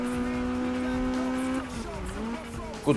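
A Honda in the game Need for Speed 2015 cornering, its steady engine note holding then dipping as the tires squeal briefly through the turn, fairly faint with someone talking over it.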